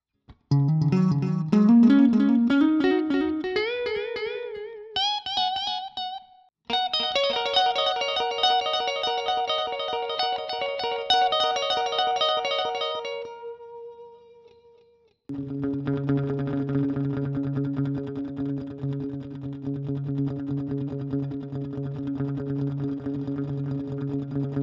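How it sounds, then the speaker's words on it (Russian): Guitar run through a Line 6 POD HD500 stereo delay, the left side repeating twice as fast as the right, with ringing picked notes and chords trailing off into echoes, then a sustained distorted chord; loud, with no talking. "У меня в левой колонке будет дилей лупить в два раза быстрее, чем в правой."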